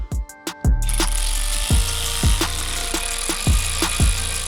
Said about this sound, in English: I'm gonna tighten them all down